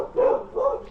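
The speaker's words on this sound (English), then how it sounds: "the puppies are saying hi." Two short, muffled barks from puppies in a residential yard during lawn mowing work, fairly close and alone without talk.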